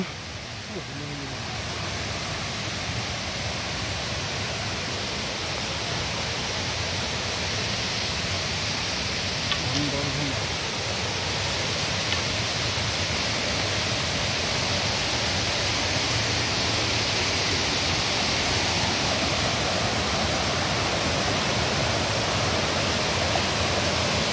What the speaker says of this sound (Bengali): জলের কুলকুল আওয়াজ